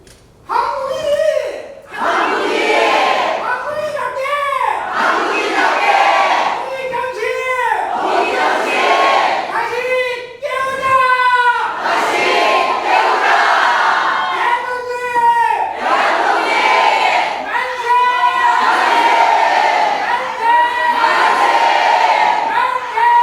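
Crowd at an 80th Liberation Day ceremony in Korea chanting manse in a loud group performance of the independence movement, repeated rhythmic shouts of many voices rising and falling throughout.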